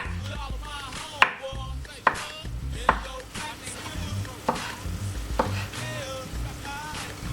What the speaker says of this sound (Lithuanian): Susipjaustome alyvuoges.